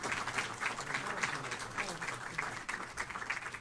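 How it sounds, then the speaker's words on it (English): A mosque audience gives a round of applause for Imam Mobeen during a talk on the modern Muslim family, a quiet but steady patter of many hands continuing throughout. "Can we give Imam Mobeen a round of applause?"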